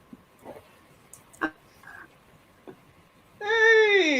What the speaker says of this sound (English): Cat wants to come in.